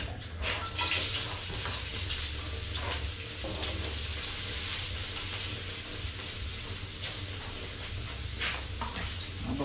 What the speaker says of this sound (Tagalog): Gigisa muna tayo ng bawang sibuyas